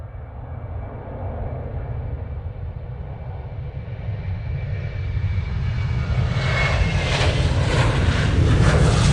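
Jet airliner departing Manchester Airport, its engine roar building steadily louder and brighter over several seconds as it climbs, a continuous powerful rumble with no speech.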